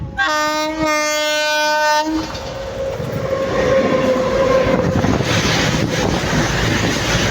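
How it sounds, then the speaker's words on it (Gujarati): A train horn blares with a strong harmonic tone for about two seconds, then heavy rumbling and wind buffeting as the train rushes past close by. "જો રેલગાડી આવી,"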